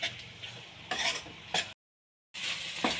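Eggs and capsicum are stirred in a frying pan, scraping in short bursts over a faint sizzle, then a brief silence before the stirring resumes.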